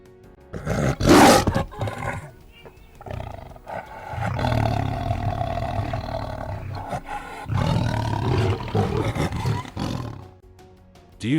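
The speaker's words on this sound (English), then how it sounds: "It's a tiger." A tiger roars repeatedly, loud and close, with deep rumbling bursts and growling swells separated by short pauses.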